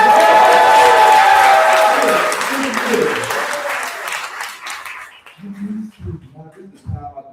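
Comedy show audience bursting into loud applause and cheering that fades over several seconds, giving way to someone speaking alone as the clapping dies out.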